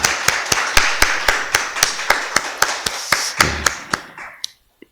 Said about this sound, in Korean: 우리 권사님 우리 박수 한번 환영합니다